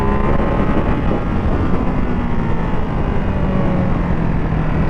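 Ducati Hypermotard 698 Mono motorcycle engine under way, a loud, dense, continuous single-cylinder drone mixed with wind rush, steady throughout with no talking.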